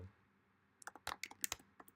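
Someone types on a computer keyboard: after a quiet start, a quick irregular run of sharp, close key clicks, fairly soft overall, with no talking.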